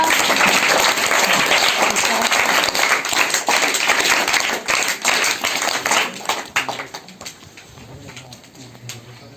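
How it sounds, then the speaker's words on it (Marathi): Children clap together at a Marathi village primary school pre-school readiness event, a dense burst of applause that gradually thins into scattered claps, with some voices in the background. "छान टाळ्या वाजवा"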